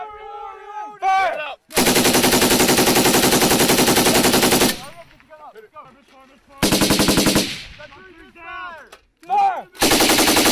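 A US Army M240 or M249 machine gun firing long sustained bursts, three loud rapid-fire strings close by, separated by shouted talk between bursts.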